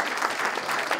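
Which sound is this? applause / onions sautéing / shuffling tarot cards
applause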